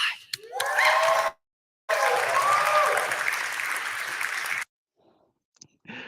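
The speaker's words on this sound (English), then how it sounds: "This is where you applaud." Two short bursts of audience clapping at a developer after-party presentation, separated by an abrupt silence and ending in near quiet with a few faint stray sounds, with some crowd voices mixed in.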